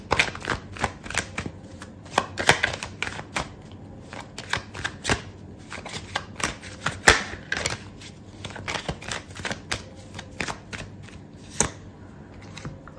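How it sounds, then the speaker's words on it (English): Tarot cards being shuffled and drawn for a love reading: a long run of quick, crisp riffling snaps and flicks, close and fairly quiet, with uneven bursts and pauses and no talking. "I'm going to pull out another card for you"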